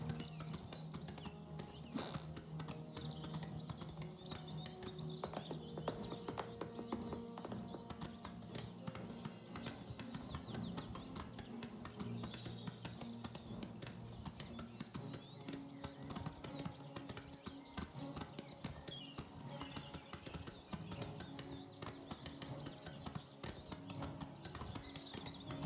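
A horse ridden in the video game Oblivion clip-clops along at a steady, brisk gait, its hoofbeats continuous and even over faint game ambience, with no voice heard.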